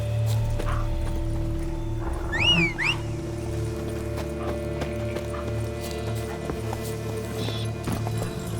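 Roach, the horse in The Witcher III, gallops along with steady clip-clop hoofbeats over a background of game music, with a brief tonal call near the start.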